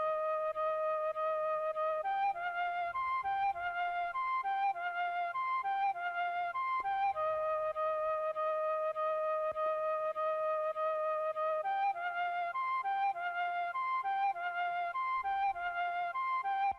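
Layered synth lead melody from an FL Studio Afrobeats remake of a song, a steady bright harmonic line moving through short repeating phrases for about seventeen seconds, loud and alone with no talking.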